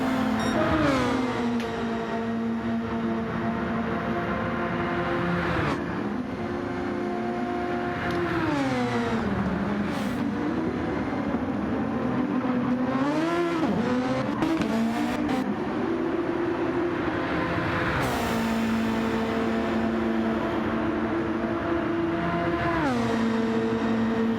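Race cars circle the track at Fuji, engines revving hard and rising and falling through repeated gear shifts. A Mercedes is among them, and the sustained loud racing noise carries on with no one talking over it.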